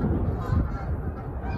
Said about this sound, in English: Oh, there's geese.